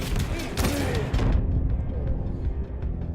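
Rocket launcher fire and blasts in the arena shooter Quake Champions, a dense burst of loud explosive booms and gunfire in the first second and a half, then a lower rumbling clatter of game action beneath ongoing talk.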